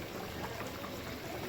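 A pot of curry boiling on a stove, giving off a steady, continuous bubbling hiss at close range with no talking.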